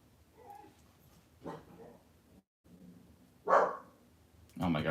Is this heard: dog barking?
yes